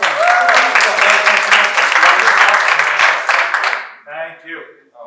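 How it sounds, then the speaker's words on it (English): An audience at an investor success workshop gives a speaker a round of applause, full and loud for nearly four seconds, then breaking off as a voice begins talking. "Give her a round of applause."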